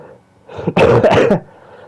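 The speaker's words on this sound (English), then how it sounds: "Coughing hurts, man." A person with a cold lets out one harsh, loud cough, a short explosive burst after a brief throaty lead-in, close up and alone.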